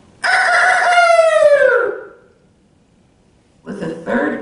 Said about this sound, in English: With the third crow of the cock